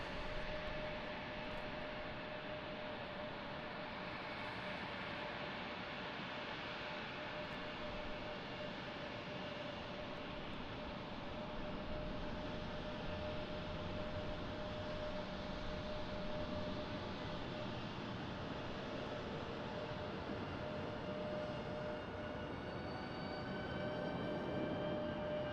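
A CRJ regional jet takes off at Raleigh Durham airport, a broad continuous roar with a steady whine, distant and unbroken, heard alone.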